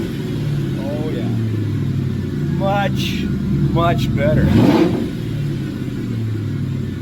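A bone-stock Mustang engine with its mufflers deleted revs up briefly, rising and falling once over a steady idle rumble, heard close by while people talk over it.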